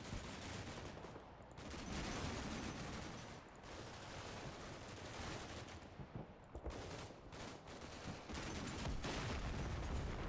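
Heavy .50 caliber machine guns fire nonstop during a Marine amphibious landing battle in Combat Mission: Cold War, a dense, continuous roar of overlapping bursts with no voices.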